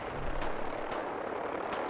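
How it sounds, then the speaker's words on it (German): A helicopter in the video game Fallout 4 thrums steadily, its rotor beating with a few sharp pulses over a dense, loud roar, and no one speaks over it. "Hat er jetzt echt den Heli runtergeholt?"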